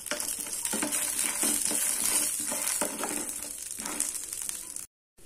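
Garlic cloves and green chillies roasting in a pan, with soft, quiet scraping and stirring over a light crackle and occasional rustling taps, the sound cutting out briefly near the end.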